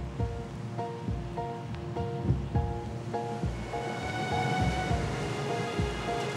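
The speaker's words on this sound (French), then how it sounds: "Je pense que les vagues peuvent atteindre le bord," Sea waves wash onto an eroding beach near Bangkok, a rolling surf rush under steady melodic background music, with swelling louder surges toward the end.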